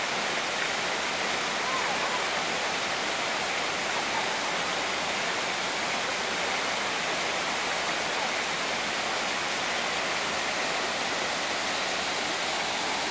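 Laurel Falls waterfall in Gatlinburg pours with a constant, broad roaring hiss of falling water heard close by, steady and unbroken throughout, with no other sounds rising above it.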